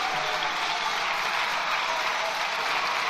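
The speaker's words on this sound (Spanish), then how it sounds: "El PSOE le aplaude." Broad applause in the Spanish parliament, a dense, sustained wash of many hands clapping at once, loud and even throughout with no speech over it.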